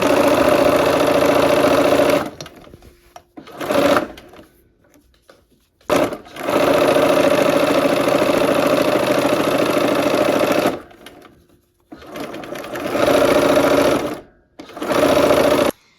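A sewing machine stitches quilt block seams in several loud, steady runs, each a few seconds long, broken by short pauses between passes.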